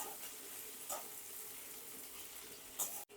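Tomato fries with spices in a pan for khichuri, a faint, soft, steady sizzle with a couple of light stirring scrapes and a sudden cut at the end.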